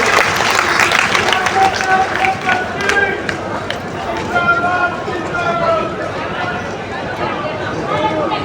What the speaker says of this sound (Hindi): एक जोरदार तालियां आप इनके लिए।